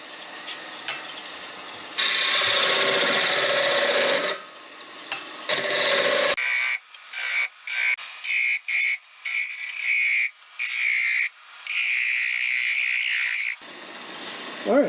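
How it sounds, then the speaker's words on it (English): A wooden liquorice cleaner handle being shaped on a lathe gives off loud, steady cutting and rubbing noise in long bursts, with short gaps and quieter motor hum between passes, and no talking. "I'm just going to shape the handle to my liking"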